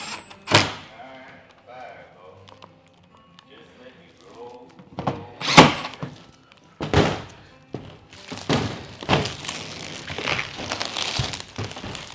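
A new aluminum door on a car hauler trailer shuts with a heavy metallic thud, followed by more clunks and rattles of handling, while someone talks before and after.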